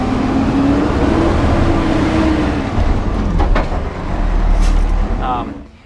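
A brand new Peterbilt garbage truck runs its hopper machinery, giving a steady loud engine rumble with a low whine that rises and falls, then sharp hydraulic clanks and a short hiss near the end.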